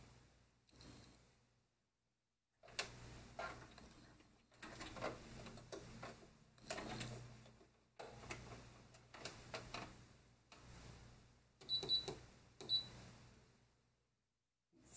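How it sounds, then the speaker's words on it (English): A sewing machine runs a zigzag stitch along a dress waistband in faint, quiet bursts of rapid ticking, starting and stopping several times with short gaps between runs. "I'm just going to go back over this again with a zigzag stitch."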